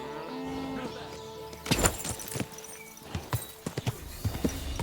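Horse hooves clip-clop in the video game Kingdom Come Deliverance II, an irregular series of close, sharp clops over a steady music-like tonal background.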